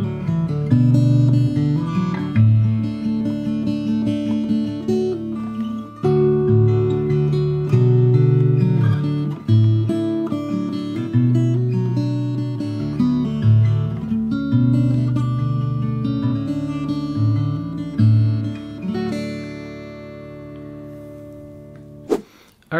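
The chorus of a song played on fingerstyle acoustic guitar, with plucked bass notes under melody picking in a flowing, moderate rhythm. It is close and clear throughout, with no talking, ending on a brief sharp sound.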